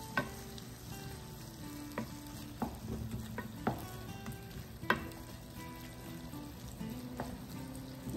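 Tuna with a dressing heats in a pan, a soft steady sizzle punctuated by scraping stir strokes and occasional clinks of a utensil against the pan.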